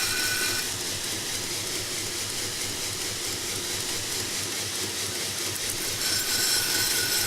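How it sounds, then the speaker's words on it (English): Steady, loud abrasive roar of a belt grinder with a 10-inch contact wheel grinding down a straight razor blade, continuous and close with no pauses. "using the 10-inch contact wheels. Just going to grind it down to its final size."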